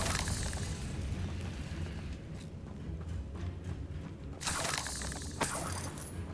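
A Confringo fire spell in Hogwarts Legacy bursts in a sustained roaring rush of blazing noise, followed by another loud crackling blast partway through.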